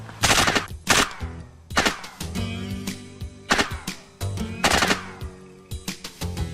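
Machine guns firing in America: repeated loud, close bursts of rapid automatic fire with short gaps between volleys and echoing tails.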